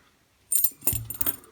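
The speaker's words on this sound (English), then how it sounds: "why did I put those keys on there?" Metal keys jangle against a padlock, a quick rattle that breaks off and then resumes, loud and near with no talking.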